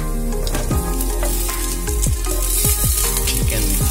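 Chicken pieces frying in a pan for butter garlic chicken give a steady, dense sizzle, with a few sharp scraping stirs and clatters of a utensil against the pan near the end.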